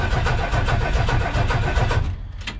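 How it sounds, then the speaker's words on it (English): A 1979 Ford F150 truck engine, primed with starting fluid, cranks over in a steady rapid rhythm of loud, close chugging pulses, then falters and sputters as it catches near the end. "if you give it a little bit of starting fluid, it'll crank over and then it runs"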